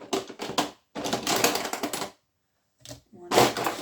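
Small scissors snip scrapbooking paper at close range in a series of quick crisp cuts, some in rapid clusters, with a short pause before a final few snips.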